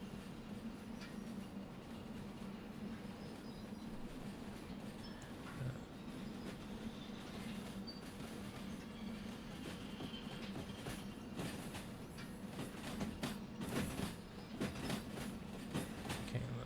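A freight train with a caboose rolls along in the game Derail Valley, a continuous rumble with rhythmic clickety-clack of wheels over rail joints, growing busier with sharper clacks toward the end.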